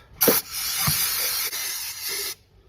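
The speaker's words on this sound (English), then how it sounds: "Let's spray it out just a little bit. Spray it off." A steady, close hiss of spray over a fuel pump runs for about two seconds, with a couple of sharper spurts at the start and quick stops in between.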